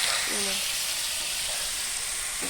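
Chicken pieces fry in a pan with a steady, close sizzling hiss that runs throughout, with a brief faint voice near the start.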